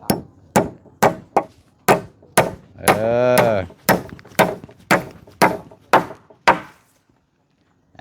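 Nails being hammered into wood on a building job that is in its second day, with freshly ordered lumber: roughly a dozen sharp, close blows at a steady rhythm, a brief voice breaking in partway through, then silence.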